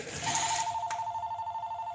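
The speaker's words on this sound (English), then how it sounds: "there's somebody calling about their order. I'm not answering the phone" A telephone rings with a steady electronic tone that pulses rapidly, fairly loud and close, with no voices.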